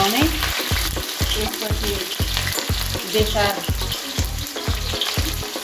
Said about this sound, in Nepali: त्यसपछि चाहिँ प्याज हालिसकेपछि हल्का चलाउने।